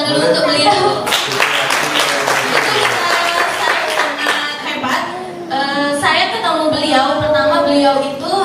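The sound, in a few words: audience applause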